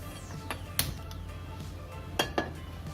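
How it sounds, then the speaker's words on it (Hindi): A metal kadhai or pan set down on a gas stove while making restaurant-style egg curry, giving a few sharp metallic clanks and clinks over a quiet kitchen background. "कढ़ाई या पैन रख लीजिए"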